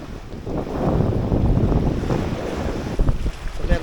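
Strong wind gusts steadily across an island shore near a campsite on Garza Island, buffeting the microphone with a dense, rumbling roar that rises and falls, with faint surf beneath it.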